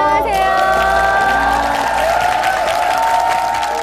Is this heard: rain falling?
no